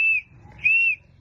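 A handheld safety whistle gives two short, loud, separate blasts with a brief gap between them over faint background rumble.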